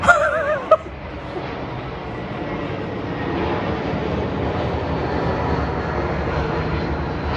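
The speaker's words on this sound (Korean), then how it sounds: "비행기가 혹시 이렇게 날아갑니까?" A steady, broad engine roar of an Asiana airliner passing overhead in Sinwol-dong, Seoul, fills the clip after a couple of brief sharp sounds at the start, continuous and fairly loud.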